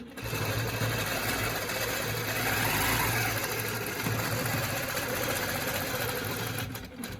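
Longarm quilting machine stitching along a straight-edge ruler, a loud, steady mechanical hum with rapid needle chatter running continuously, close up and without talk.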